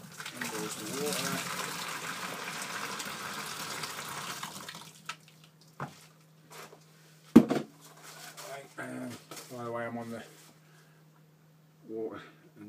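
Water gushes steadily from a boiled kettle into a home brew beer mix made from two kits and beer enhancer, a continuous pouring wash for several seconds, then someone talks over light handling noises.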